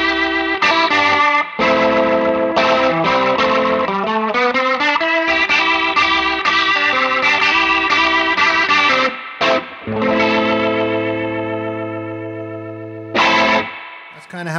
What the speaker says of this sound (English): I just love that pedal steel lick.